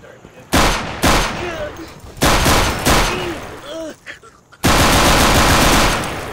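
Loud bursts of rapid video game gunfire rip out in several separate volleys, machine-gun style and close, with brief gaps between bursts and a final sustained barrage.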